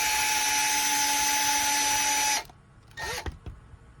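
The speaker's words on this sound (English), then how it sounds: "I will put it into my drill, and then I will go ahead and remove these 6 screws" A power drill fitted with a 2.0 driver spins out screws on a Losi Pro Moto MX bike, a steady close whine for about two seconds that then stops, followed by brief handling clicks.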